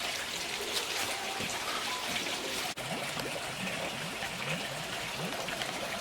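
Water bubbles and trickles continuously in a koi pond under potassium permanganate treatment, a soft, steady gurgling wash with a brief dip partway through.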